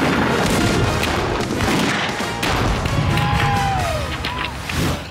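Tank main gun fires with a heavy boom during a destruction test, the blast and rumbling debris filling the whole stretch loudly and close, with a faint whistling tone partway through.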